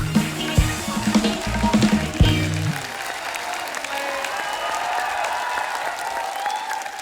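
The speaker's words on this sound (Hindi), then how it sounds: "एक बार जोरदार तालियां हमारे मेहमानों के लिए" A studio audience on a comedy talk show applauds loudly as guests are welcomed on stage, a dense sustained wash of clapping with cheering and background music at first.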